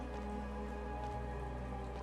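Steady rain falls in the Rainy Sea area of the video game Chained Echoes, a constant even hiss with faint tonal music lines underneath and no voices.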